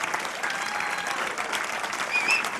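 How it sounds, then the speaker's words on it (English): Audience applause at a literature festival closing ceremony, a dense steady clapping from a crowd, fairly loud and continuous with faint voices mixed in. "please give them a very big round of applause"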